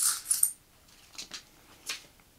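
Metal coins from The Witcher Old World big-box board game clink together as they are handled, with a few bright jingles at the start and then scattered lighter taps that fade between touches.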